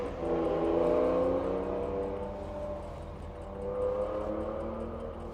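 A 1956 Dual Ghia convertible cruising along, its engine a steady, smooth low hum with a soft rise and fall in pitch as it pulls, heard from inside the car over continuous road and wind noise, with no talking.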